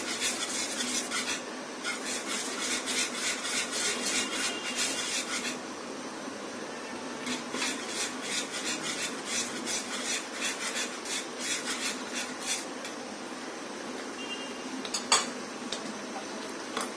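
Spoon scraping and stirring bread crumbs into a thickening caramel pudding mixture in a pan, a steady close rasping clatter of metal against the pan that runs throughout with a few sharper clinks.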